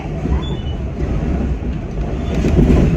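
Aboard a Metra commuter train rolling past parked Amtrak cars: a loud, continuous rumble of wheels on rails with a brief squeal early on, steady and close with no talk.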